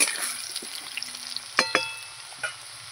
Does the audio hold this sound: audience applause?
no